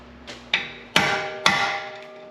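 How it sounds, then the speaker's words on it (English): Three sharp metallic hammer knocks on a brake caliper part of a 2015-2020 Acura TLX ring out close by, evenly spaced about half a second apart, each leaving a short ringing tail. "I'm just gonna take my hammer and give it one quick knock"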